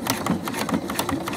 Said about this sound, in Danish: Og jeg syr med en helt almindelig ligeudstik. Jeg har en god polyestersytråd i, og jeg har en jerseynål